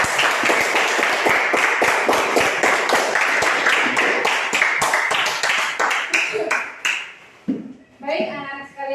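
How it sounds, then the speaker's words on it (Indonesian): Classroom of children clapping for students after their group discussion presentations, dense loud applause for about seven seconds that thins out, with children's voices and chatter rising at the end. "Tepuk tangan untuk kalian semua."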